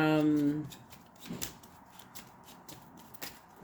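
Tarot cards are shuffled by hand in a brief riffling burst with a couple of soft flicks, quiet and close, following a short spoken voice at the start.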